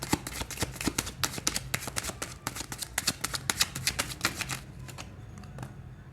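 Tarot cards are shuffled in a quick, crisp riffling and flicking rhythm, close and fairly soft, continuing for several seconds before trailing off.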